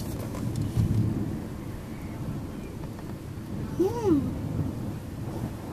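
Thunder rumbling during a thunderstorm over Spijkenisse, a low rolling roar that swells and fades over several seconds, with a faint whistling tone partway through.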